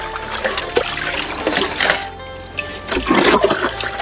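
Dirty water being scooped and poured by hand, with repeated sloshing, splashing and trickling close by in an uneven rhythm.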